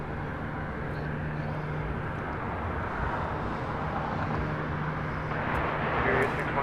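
A jet airplane taking off at LAX, a broad, steady engine roar from a distance that swells slightly toward the end, with a faint low hum underneath.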